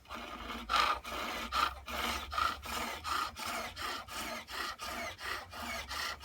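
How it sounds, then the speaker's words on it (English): Oval skew chisel roughing a green wood garden dibber on a pole lathe, with rhythmic rasping cuts about every 0.8 seconds, each stroke a close scraping rush that rises and falls with the treadle. "So now just using this oval skew to finish off the roughing"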